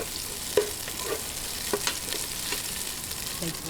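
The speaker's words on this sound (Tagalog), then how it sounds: "gisahin lang po natin na lumabas talaga yung mabango niyang amoy" Aromatics sautéing in a pan for pork dinuguan: continuous bright sizzling with a few sharp spatula scrapes and clinks, close and unbroken, with no talking.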